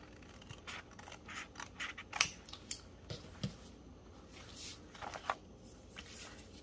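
Scissors snip through excess paper while an envelope is collaged for a scrap-made journal, a quiet run of short irregular cuts and rustles close to the listener.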